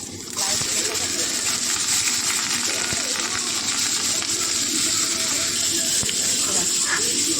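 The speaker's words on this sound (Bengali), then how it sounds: "লাউয়ের খোসা ভাজবো আমি।" Bottle gourd peel frying in hot oil in a kadai with black cumin and green chilli, a continuous close hiss and sizzle with occasional light clinks, a voice faintly underneath.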